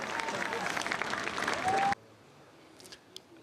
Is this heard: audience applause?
yes